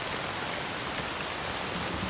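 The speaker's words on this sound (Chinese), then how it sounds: "天降大雨，队伍暂且休整。" Heavy rain pours down in a constant, even, full-bodied hiss that never changes, with no voices or other sounds over it.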